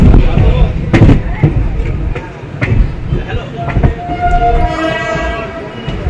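The Maa Tara Express runs near Bandel with a heavy rolling rumble and clattering wagons, then a sustained tonal horn-like note in the second half, while people talk over the noise.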